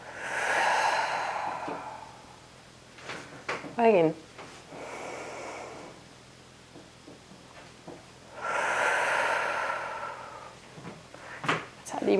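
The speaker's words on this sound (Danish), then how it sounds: "Trækker vejret ind gennem næsen. Puster maven lidt ud, som en ballon. Og pust ud igen gennem munden." Slow guided breathing during an energy-boosting exercise, air drawn in through the nose and blown out through the mouth, two long soft breaths heard close and clear, with brief talk in between.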